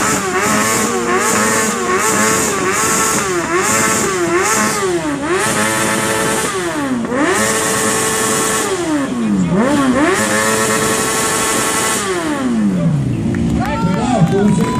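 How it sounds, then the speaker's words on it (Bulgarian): A Honda motorcycle in a loudest-bike contest revs hard again and again, its engine pitch climbing and dropping in repeated loud sweeps, with crowd noise and voices underneath. "Хондата да чуме."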